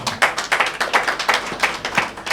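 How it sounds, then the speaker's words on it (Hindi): An audience clapping for the sisters at a church gathering, a brisk run of about a dozen distinct claps in an even rhythm, close and fairly loud, with no talk over it. "शाबाश, बहनों के लिए जरा तालियां बजाओ"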